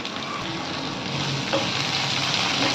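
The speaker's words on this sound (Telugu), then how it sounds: "పచ్చిమిరపకాయ ముక్కలు, ఉల్లిపాయ ముక్కలు బాగా వేగాలి." Green chilli and onion pieces frying for a bitter gourd dish, a steady dense sizzle that swells slightly louder partway through, close and continuous with no voices.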